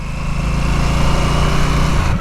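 A 2022 Harley-Davidson Nightster motorcycle engine rumbles loudly up close with a steady, throbbing putter as it engine-brakes down through the revs, no voices present.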